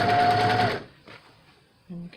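A short burst of fast, close sewing machine stitching on a T-shirt quilt, rattling for under a second and then cutting off into near quiet, followed by a faint low hum.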